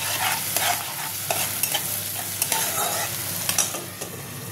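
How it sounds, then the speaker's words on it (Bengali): Hilsa fish masala with green chilies and salt sautéed in a pan, a steady frying sizzle broken by repeated scraping stirs, close and fairly loud with no talking. "এবার এটা একটু হালকা কষে নেব।"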